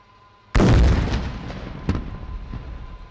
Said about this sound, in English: Please take your attention to the terror hideout Tango 11 on your right to witness the kamikaze kinetic strike.